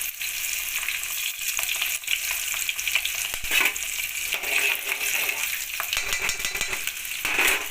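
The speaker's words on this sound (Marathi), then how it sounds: "आता मी टाकून घेते लसूण लसूण" Garlic and green chilies frying in hot oil in a pan while rice khichdi is cooked, a loud continuous sizzle with stirring scrapes throughout, close and without speech.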